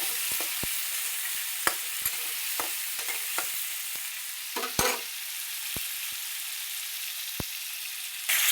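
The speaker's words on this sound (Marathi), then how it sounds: "कांदा टोमॅटो एकत्र टाकायचा, चांगलं तेलात असं फ्राय करून घ्यायचं." Chopped onion and tomato frying together in oil, a continuous soft sizzle and hiss with scattered sharp taps and scrapes of a spoon stirring the pan, close and alone without talk.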